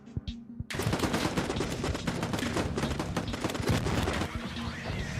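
Rapid SKS rifle fire rings out in a video game, a dense burst of close, loud gunshots in quick succession, continuing for several seconds after a brief quiet start.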